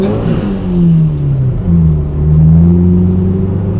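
Subaru Impreza WRX STI engine on an ice track, a loud close rumbling growl that rises, eases briefly, then swells again as the car accelerates, with steady whirring drone underneath.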